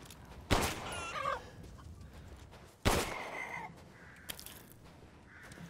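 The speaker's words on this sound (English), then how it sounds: "Can hear the chickens." Chickens in the Resident Evil Village video game, two loud squawking clucks a couple of seconds apart over a low ambient game bed, with fainter clucking in between.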